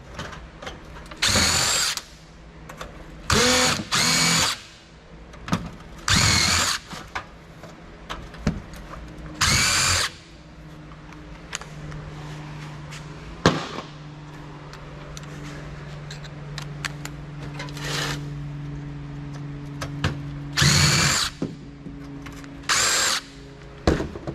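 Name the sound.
power tool unscrewing a computer power supply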